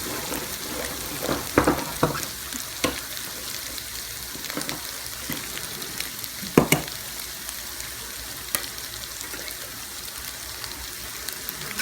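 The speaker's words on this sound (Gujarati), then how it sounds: "અને જરાક જ આપણે તરાવા દઈશું" Onions and spices fry in a hot pan for Gujarati khichro, a steady sizzle broken by occasional stirring scrapes and clinks of a spoon against the pan, close and continuous with no voices.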